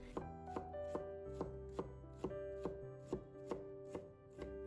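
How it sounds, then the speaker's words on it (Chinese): A kitchen knife dices a small piece of red chili pepper on a cutting board, landing about a dozen crisp, evenly spaced chops close up, with soft background music beneath. "再切成丁。"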